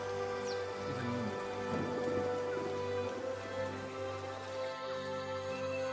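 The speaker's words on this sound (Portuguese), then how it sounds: "chovendo, barulho de chuva" Steady rain ambience in the video game Dofus Unity, a soft continuous patter under sustained tonal game music, with a faint rumble and no speech.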